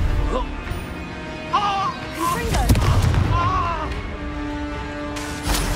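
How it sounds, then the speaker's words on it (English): Expulso explosion curses burst in Hogwarts Legacy combat, sharp loud blasts with crashing impacts, one standing out near the middle, among combat noise and spoken taunts. "You don't stand a chance against expulsion!"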